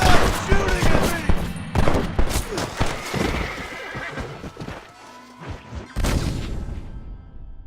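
Gunfire in the Western video game Red Dead Redemption, sharp shots in bursts layered over loud horse whinnies and clip-clopping hooves, with a voice shouting briefly amid the action.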